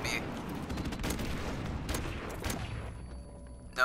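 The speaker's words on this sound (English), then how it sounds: "A friendly airstrike on the way." Call of Duty friendly airstrike explosions burst in a rapid series of loud booms and crackling blasts, fading toward the end, with a short voice at the close.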